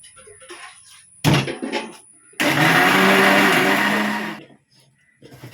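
A kitchen mixer grinder whirs loudly for about two seconds as it grinds two ingredients together, then winds down. Clattering and a voice come before it, and talk resumes after it stops.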